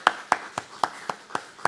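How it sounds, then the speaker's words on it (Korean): A Sunday sermon at a fasting prayer retreat breaks into clapping: seven crisp, evenly spaced claps at a brisk, steady rhythm, close and fairly quiet, with no talking. "박수."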